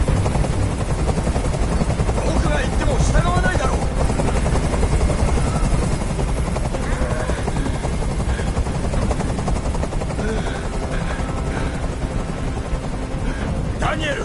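Steady, loud helicopter rotor drone throughout, hovering in the video game Detroit: Become Human, with someone talking over it in a tense exchange.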